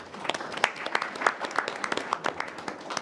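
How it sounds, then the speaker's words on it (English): Scattered hand claps from a small audience at a college board of trustees meeting, applauding a report: irregular, fairly close claps of moderate loudness with no talking. "Madam Chair, that is the first time anyone has ever applauded my report."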